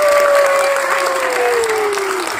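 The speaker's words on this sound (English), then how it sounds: "that deserves a round of applause" An audience at a first-anniversary gathering in Abu Dhabi breaks into loud, close applause, with a thin descending whistle-like tone gliding over the dense clapping.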